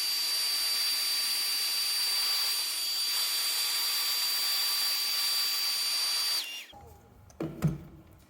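A hair dryer blows with a steady, high whirring rush for several seconds, then switches off, leaving faint handling sounds.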